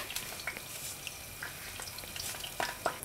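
Steady crackling sizzle of water spitting in hot fat while cooking Kyrgyz beshbarmak, with scattered sharp pops, close and continuous.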